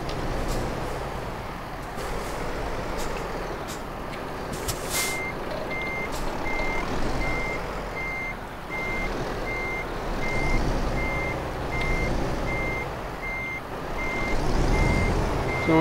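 Reversing beeps sound in a steady repeating pattern over a rumbling truck engine as a truck maneuvers in Euro Truck Simulator 2, with a brief air-brake hiss near the start of the beeping.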